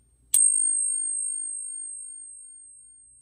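A silver half dollar struck with a stick gives a single sharp metallic strike that rings out into a clear, high, sustained ping, slowly fading over a few seconds, heard alone.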